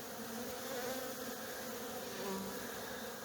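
Many honeybees fly around the hives, a continuous dense buzzing hum that holds steady and fairly faint, with individual bees drifting slightly closer and farther.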